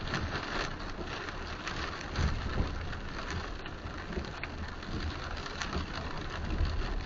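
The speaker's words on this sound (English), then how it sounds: "I don't think anyone wants to be outside in this heavy rain." Heavy rain pours while driving down 7th Avenue through Times Square in New York City, a steady, dense hiss and patter of drops drumming on the car under a low road rumble.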